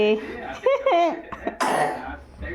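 A voice with a couple of harsh coughs near the end from a child who had a fever, close and fairly loud, mixed with brief vocal sounds.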